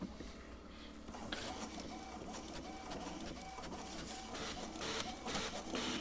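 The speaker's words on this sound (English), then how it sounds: "I hear a printer." A printer runs in the video game House on the Hill, with a faint mechanical whirr and repeated rhythmic feed noises over a quiet game background.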